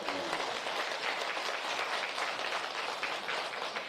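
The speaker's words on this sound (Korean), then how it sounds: "박수 한번 보내주시죠" Audience applause for a professor at a special lecture fills the room with dense, continuous clapping at an even level, with no talking over it.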